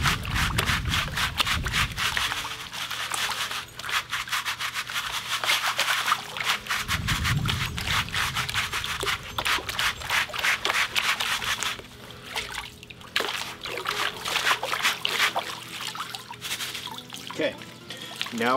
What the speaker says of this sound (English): swirl it around, lift it up, and this will hopefully bring those beautiful sapphires to the bottom of this pan